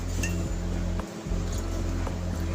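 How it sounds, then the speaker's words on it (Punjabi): Almonds soaked overnight are pounded with milk into a paste, a close, steady rhythm of dull thuds and wet clinking strikes, with no talking. "ਦੁੱਧ ਪਾ ਕੇ ਇਹਨੂੰ ਆਪਾਂ ਕੁੱਟ ਲਾਂਗੇ"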